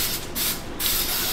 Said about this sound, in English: When you use any aerosol spray?